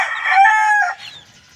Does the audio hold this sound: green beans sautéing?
no